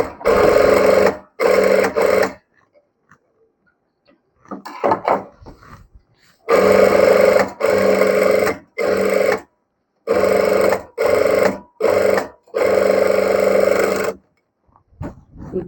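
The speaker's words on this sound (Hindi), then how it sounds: "अभी हम इसको टॉप सिलाई भी लगा लेंगे।" Sewing machine top-stitching a blouse, running in loud, steady whirring bursts of one to four seconds, separated by short silences and a few soft handling clicks.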